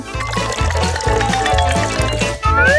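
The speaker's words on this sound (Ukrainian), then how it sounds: "А ось у басейн треба залити воду." Water poured into a toy Barbie doll pool, a continuous close gurgling stream with rising pitch as the small pool fills.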